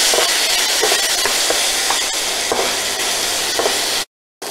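Idli pieces fry in a pan with soy sauce for chilli idli, giving a loud, dense, steady sizzle with light stirring scrapes close by, before the sound cuts out briefly at the end.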